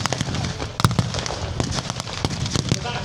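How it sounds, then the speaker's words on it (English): Artillery blasts and explosions at a tank battle reenactment at Bovington Tank Fest, a rapid series of loud sharp bangs and pops over a rumbling crowd-and-engine background. "Smoke, artillery going on, explosions. It is just chaos."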